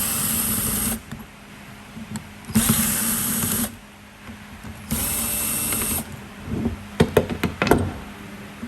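Torx screws being backed out of the oil cooler housing on a Chevrolet Cruze 1.4, with three long bursts of a power driver whirring, separated by pauses and followed by several sharp metallic knocks and clicks close by.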